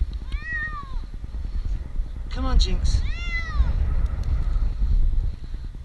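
A cat stuck up a tree meows repeatedly, a few clear, plaintive cries from some distance over steady outdoor rumble, while a person calls out to coax it down.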